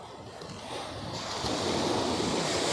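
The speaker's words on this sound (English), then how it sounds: "Okay, big waves coming in now" Big waves surge and crash onto the shore at Staithes in the UK, the rush of water building louder toward the end with wind noise over the microphone.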